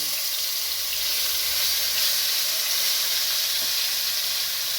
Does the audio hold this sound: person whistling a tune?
no